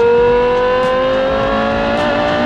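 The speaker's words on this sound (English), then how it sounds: "that's why we have the Carrera GT, which sounds like this." A Porsche Carrera GT's 5.7-liter V10 holds a loud, steady high-pitched howl at close range, its strong harmonic tone rising slightly as it revs, with no voices.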